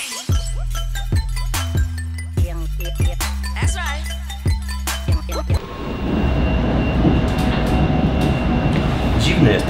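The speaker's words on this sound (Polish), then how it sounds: "Jest ten pociąg straszny." A subway train runs at a station in Lublin, with rhythmic clickety-clack beats of wheels over rail joints giving way to a loud, steady roar as it picks up speed.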